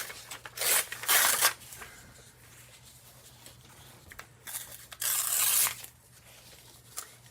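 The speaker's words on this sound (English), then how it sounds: "to hear some tearing paper" Decorative paper torn by hand for a mixed media sketchbook collage, in two long loud ripping bursts with quieter rustling and handling between them, close up.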